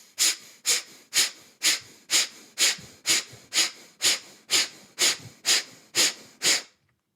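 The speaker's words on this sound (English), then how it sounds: "So blocking the right nostril, 15 sharp exhales as we draw the arm in." During yoga breathing with one nostril blocked, a run of sharp, forceful nasal exhales follows at a steady pace of roughly two per second, each a loud, breathy puff, close up with no talk.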